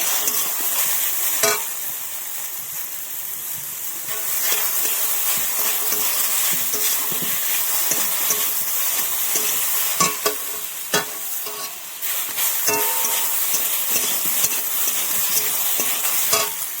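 Fish fries in a pan with eggplant and black mustard paste, giving a steady sizzle with frequent scraping stirs of a spatula, close and continuous, and no voices.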